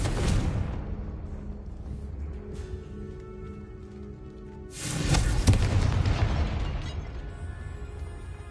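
In the video game Hogwarts Legacy, a Confringo fire spell goes off in a deep, booming blast that swells and rumbles for several seconds after a lower, steady hum.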